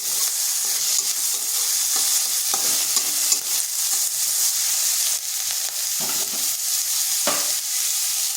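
Chopped onion sizzles steadily in a pan with a little oil, a continuous close frying hiss broken by several soft stirring scrapes, with no voices.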